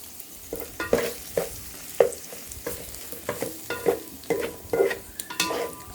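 Steady clinking of a utensil stir-frying rice vermicelli and egg in an electric pan over a soft sizzle, in repeated strokes about every half second, close and with no talking.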